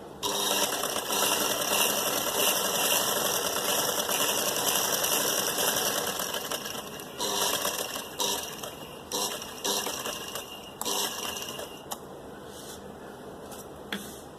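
A sewing machine stitches the sleeve hem of a suit or blouse, running as a steady, close mechanical whir that pauses and restarts repeatedly in its second half.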